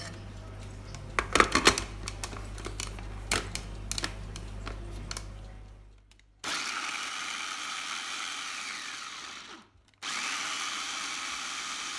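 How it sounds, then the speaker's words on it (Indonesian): A loud motorized grinding whirs steadily from a Mito CH200 electric food chopper, stops briefly, then starts again, preceded by some clattering and handling noises. "saya menghaluskannya menggunakan chopper dari Mitoshiba Elektronik, kodenya CH200"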